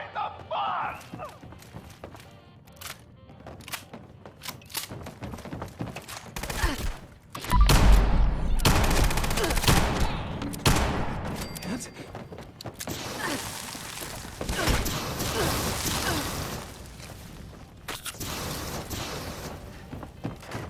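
Chaotic gunfire in the post-apocalyptic video game Fallout 76, with heavy thumps and rapid bursts of shots building from about seven seconds into a loud, sustained barrage, mixed with game sound effects.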